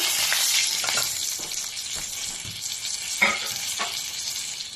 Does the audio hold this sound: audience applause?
no